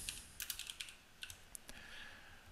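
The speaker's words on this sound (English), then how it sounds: "or type in cash flow right here" Quick light keystrokes on a computer keyboard as a search term is entered in Dynamics NAV 2016 accounting software, a close burst of taps then a few scattered clicks, no talking.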